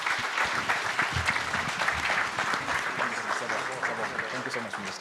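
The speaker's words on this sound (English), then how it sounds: "a round of applause for my lovely panelists" An audience at an investment conference in Eswatini applauds its panelists, a dense, lively clapping that carries on throughout while some speech or voices mix in underneath.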